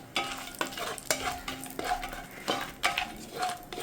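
Whole star anise, cinnamon and bay leaf roast in a pan while a spoon stirs them, giving regular scraping strokes over a soft, steady sizzle, close and moderately quiet.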